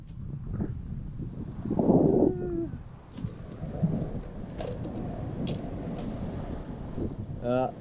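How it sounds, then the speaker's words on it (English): Strong gusts batter a microphone outdoors on a lawn during a renovation, a dense low rumble lasting throughout with louder buffets, while someone talks intermittently over it. "Bloody windy today."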